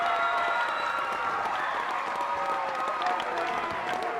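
A home crowd at a high school basketball game in a gym roars and applauds after a defensive play, a loud, steady wash of clapping and cheering.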